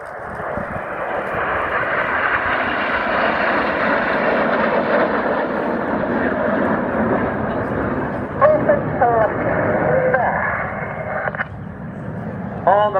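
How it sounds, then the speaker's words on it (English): Red Arrows Hawk jets sweep past at the Cosford airshow, a loud, continuous broad roar of engines that holds steady and then eases slightly, while a public-address commentator talks over it. "As the smoke comes back on and the jets sweep in from the right-hand side"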